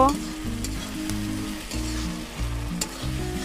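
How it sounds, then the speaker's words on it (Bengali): Prawns, tomato and onion fry in a pan, a soft steady sizzle with a few clicks of stirring, set against low, sustained background tones. "সুন্দর ভাজা ভাজা হয়ে যাবে চিংড়ি ও টমেটো ও পেঁয়াজ"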